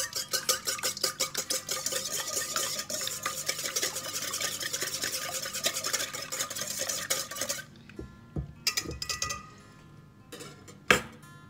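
A whisk beating ingredients with lemon zest in a bowl for a lemon cake, rapid rhythmic clattering strokes for about eight seconds, then a pause broken by a few scattered knocks and taps.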